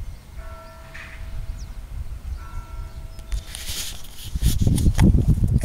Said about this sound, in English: They're ringing the bells now.